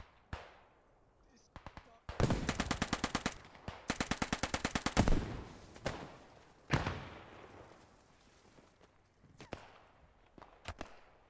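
MP40 submachine gun in the WWII shooter Post Scriptum, two sharp rapid bursts of automatic fire close by, followed by scattered single gunshots near and far and a person speaking over it.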